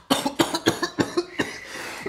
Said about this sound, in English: I just started coughing because I had to cough.